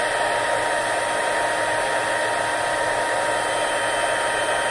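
A heat tool blows steadily at close range to melt embossing powder for a paper pillow box craft, making a constant loud whirring fan hum with airy hiss and no talking.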